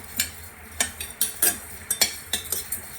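Spices for samosa filling are dry roasted in a pan, with a spatula scraping and tapping against the metal in a steady rhythm of about a dozen short, close strokes over quiet background.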